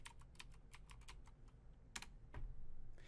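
Keystrokes on a computer keyboard while entering a Python version command on Windows, a quick irregular clatter of sharp clicks with a few louder taps near the end and no talking.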